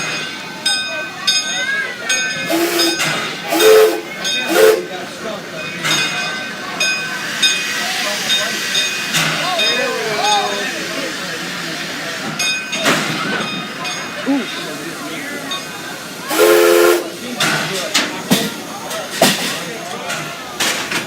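A 0-4-0T steam locomotive rumbles and hisses as it slows to a halt at a platform, with bursts of steam, a whistle-like tone and people talking nearby.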